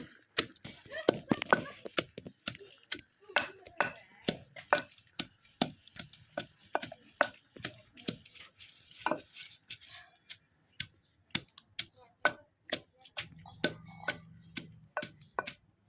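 Jujube fruits pounded in a mortar: a long run of sharp, evenly spaced thuds, quick at first and then slower, close and clear, with a voice talking briefly between the blows.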